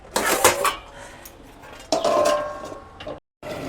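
A metal lid clanks onto a pan of fish-head curry with greens, two bursts of ringing clatter and scraping metal separated by quieter cooking noise, then a brief dead silence.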